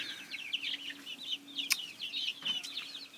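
Rhode Island Red and Plymouth Barred Rock hens cluck and chatter in a run, several birds overlapping in quick irregular calls nearby, with a couple of sharp clicks among them.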